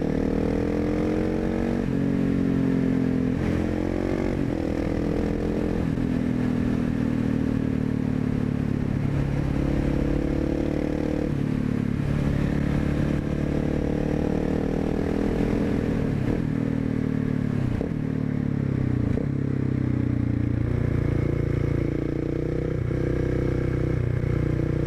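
KTM 690 SMC motorcycle engine revving up through the revs, a steady loud single-cylinder drone with rising and falling pitch sweeps, close and continuous throughout with no talk.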